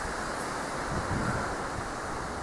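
Steady breezy wind blowing outdoors, a broad continuous rush buffeting the microphone, fairly loud and unbroken with no voices.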